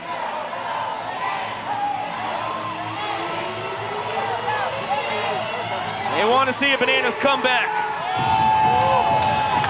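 A stadium crowd cheers and whoops at a Savannah Bananas baseball game, a loud continuous roar with swelling shouts, under an announcer's voice talking throughout.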